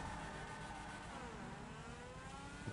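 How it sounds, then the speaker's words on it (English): A car engine drones and revs in the video game GTA V, a continuous faint whining hum with a slowly shifting pitch and no talk over it. "Can you hear my engine?"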